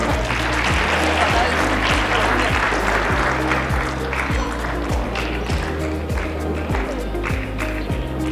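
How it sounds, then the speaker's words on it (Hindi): Crowd clapping at a youth club event hall with a loud rhythmic low thumping beat underneath, clapping most dense early then thinning, continuous and fairly close with some murmured voices mixed in. "तालियां बजा दो मुसलमानों।"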